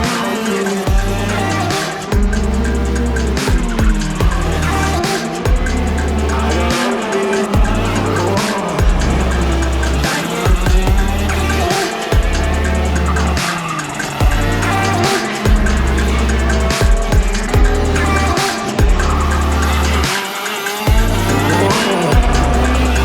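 A racing go-kart's engine drones loudly and steadily around a track, its pitch rising and falling with the throttle, while the tires squeal through the corners.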